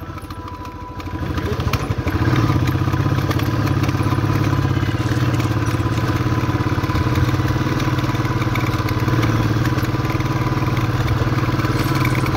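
Motorcycle engine chugging steadily on a rough, difficult mountain road between Ghasa and Jomsom in Mustang, close and loud, with rattles and thumps over the uneven surface and no talking.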